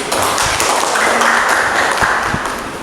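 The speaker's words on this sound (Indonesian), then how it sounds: "kasih tepuk tangan dulu" Students in an Indonesian vocational classroom lesson on electrical distribution panel components applaud a classmate, a busy patter of hands with a few sharper taps standing out, close and steady before tapering slightly at the end.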